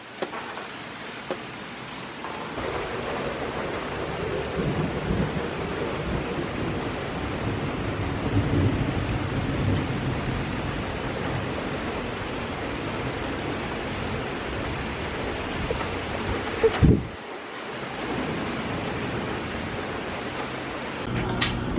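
Steady heavy rain pours during a thunderstorm, a dense continuous roar with low thunder rumbling underneath, broken by a brief sharp drop near the end before the downpour resumes.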